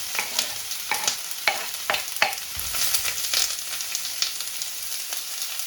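Chopped onion tipped into a hot pan of melted butter for French onion soup, crackling and sizzling steadily close up, with repeated sharp scraping stirs of a utensil punctuating the frying.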